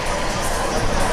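A crowd at a college volleyball match between Elmhurst and Millikin fills the hall with steady cheering and chatter, a close, loud, even wash of voices throughout.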